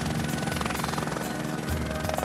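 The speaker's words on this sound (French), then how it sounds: "le blessé sera évacué par l'hélicoptère privé de la station" A private ski-resort rescue helicopter at Les Deux Alpes evacuates an injured skier from the slopes, its rotor chop loud and steady throughout with a dense, continuous engine roar close by.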